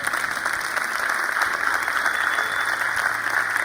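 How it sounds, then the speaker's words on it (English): A crowd at the iBRIDGE Berlin 2015 community event gives a sustained round of applause, thick and even, many hands clapping steadily at close range without a pause. "Give them another round of applause."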